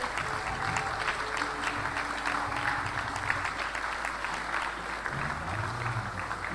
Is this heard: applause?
yes